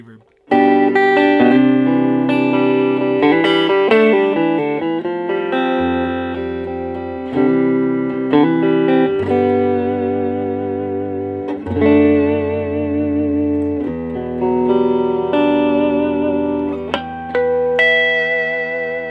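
A 1980s electric guitar plays clean through an amp with all knobs at noon and reverb, picked notes and chords ringing out with lush trailing echo, loud and close for the whole passage.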